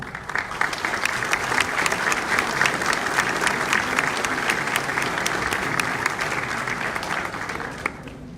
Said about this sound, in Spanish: Despedimos a nuestras autoridades con un caluroso aplauso.